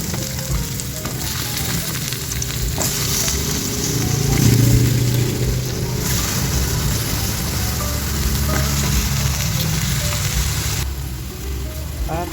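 Eggplant frying in oil in a pan: a steady, loud crackling sizzle that continues without a break for the whole stretch, with faint kitchen clatter and no talk heard.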